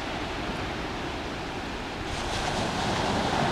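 Sea surf and wind at Folkestone on the Channel coast make an even, hissing rush that swells slightly louder toward the end, with no voices present.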